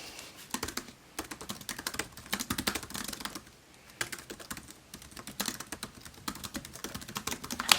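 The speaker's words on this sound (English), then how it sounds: "Let's get to typing." Rapid, irregular clatter of keys on a computer keyboard while writing in a Google Doc, steady bursts with brief pauses, close and fairly quiet, no voices.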